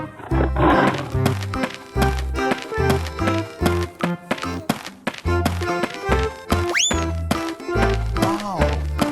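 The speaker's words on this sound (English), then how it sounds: "Tiger." Tiger roars from an animal painting video game, short loud bursts repeating in an uneven rhythm among tapping game sounds and music-like tones, with a voice speaking briefly.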